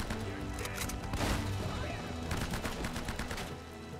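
Repeated enemy gunshots from an Uncharted: Drake's Fortune firefight on PS3, sharp cracks in a steady, fairly loud burst of fire with a voice talking over it.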